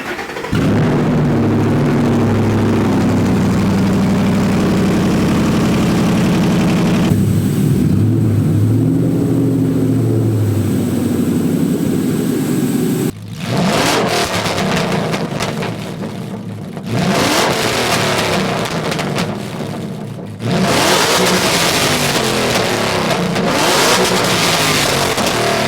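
A Ford Mustang BOSS 302 V8 with a custom NASCAR-style boom tube exhaust revs loudly and close up, settling into a rumbling idle, then blipping through several sharp throttle bursts separated by brief drops, with no talking.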